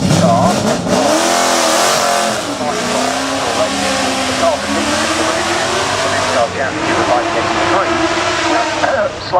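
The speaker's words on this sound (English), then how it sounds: "fairly humble Triumph four-door family saloon could actually turn into quite the competition car" A modified Triumph four-door family saloon race car competing in timed practice at the Goodwood Festival of Speed, its engine loudly revving and changing pitch as it accelerates past, while a commentator talks over it.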